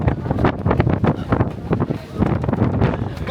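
Strong, cold wind buffets the microphone in loud, gusty rumbling bursts at the summit of Fansipan, Vietnam, with a voice faintly mixed into the roar.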